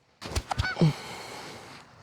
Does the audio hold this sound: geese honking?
yes